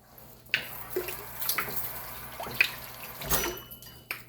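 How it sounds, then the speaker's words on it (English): Water poured in short splashes and drips into a dish while making a teriyaki whole chicken freezer-meal dinner, a few soft, close pours and trickles over a quiet kitchen background. "I'm gonna just add just a tad bit of water to this."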